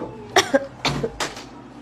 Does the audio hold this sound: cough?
yes